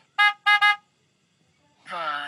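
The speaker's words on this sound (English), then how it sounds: "Van." A van horn gives two short, loud honks in quick succession, followed after a pause by a voice speaking.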